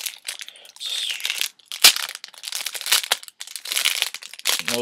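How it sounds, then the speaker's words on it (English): Loud, close crinkling and crunching of packaging as a Club Nintendo calendar package is opened, with irregular bursts of rustling, tearing and sharp crackles. "I'm going to do a quick unpackaging for you guys today."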